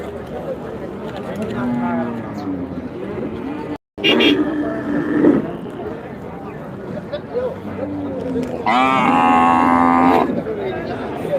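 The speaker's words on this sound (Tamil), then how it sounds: "சரியான ஹைட்டுங்க அந்த மாடு" Cattle, mostly native breed cows, moo repeatedly at the Manapparai livestock market, with several long, loud calls over a constant crowd murmur and people talking nearby. A brief gap in the sound comes partway through.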